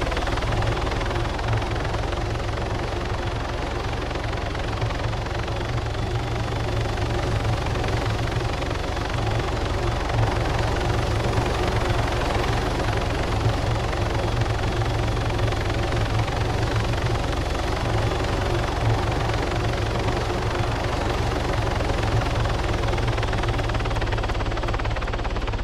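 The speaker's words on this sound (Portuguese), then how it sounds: "Nossa, o helicóptero tá em cima de mim," Continuous loud thumping rotor drone of a helicopter hovering close overhead in the video game Arma 3, steady and unbroken throughout with no voices.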